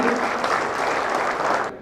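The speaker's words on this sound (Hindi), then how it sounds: "तो एक बार जोरदार तालियां।" Loud, dense audience applause at a national executive council meeting, a sustained wash of clapping that cuts off abruptly near the end.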